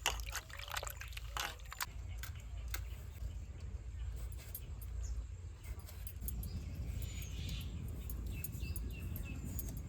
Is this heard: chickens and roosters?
no